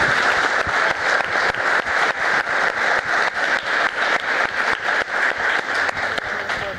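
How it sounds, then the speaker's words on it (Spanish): Loud, sustained applause from a conference audience for the panelists of a green economy and sustainable development panel; dense clapping with a steady pulsing rhythm carries on strongly for several seconds, with no speech over it. "por favor acompáñenme a dar un fuerte aplauso a los panelistas"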